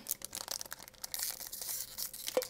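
A Pokémon TCG booster pack wrapper is torn open up close, with crinkly, rustling rips and crackles that come in irregular bursts and stay moderately quiet throughout.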